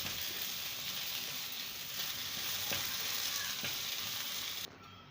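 Okra frying over high heat in a pan with oil, a steady close sizzle with occasional scraping clicks as it is stirred, continuous and fairly even before cutting off abruptly near the end.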